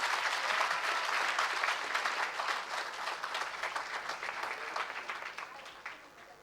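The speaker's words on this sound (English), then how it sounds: "Can we have a huge round of applause" Graduation-day audience at a fashion institute in Bangalore applauds gold medal winners, dense clapping from a large crowd that starts strong and gradually thins toward the end.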